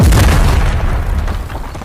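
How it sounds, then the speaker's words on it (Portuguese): A tank shell explodes on a battlefield with a loud, deep boom that rumbles and slowly fades across the whole moment, heard alone with no voices. "A explosão iluminou o campo de batalha"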